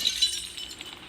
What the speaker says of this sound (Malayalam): ഒരു ചില്ല്. അപ്പോൾ അത് പൊട്ടിക്കഴിഞ്ഞാൽ നമുക്ക് അതിൻ്റെ ഉള്ളിൽ കയറാം